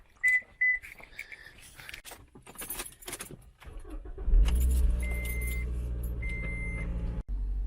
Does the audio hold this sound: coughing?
no